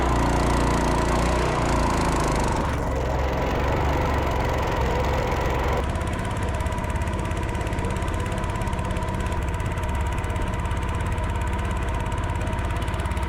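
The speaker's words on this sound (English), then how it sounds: "the engine is labouring quite a bit" A hydrofoil catamaran's engine runs steadily and labours under load, a loud, rough, continuous drone with a shift in tone partway through, no voices over it.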